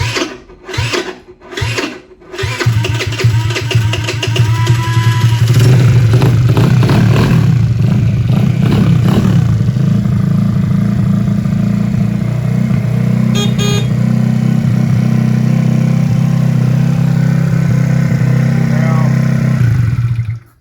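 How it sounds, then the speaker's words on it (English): A small 50cc scooter engine with an electrical problem is cranked a few times, catches, and settles into a loud, steady buzzing idle that runs on close by. "So now we're going to turn our scooter on and do a start test."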